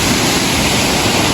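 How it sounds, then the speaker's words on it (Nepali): A large stream of water rushes down a waterfall beside a mountain footpath in Nepal. It makes a loud, unbroken roar of broadband noise that stays steady throughout, close by and with no voices. "यत्रो ठुलो पानी बग्छ यहाँनिर चाहिँ"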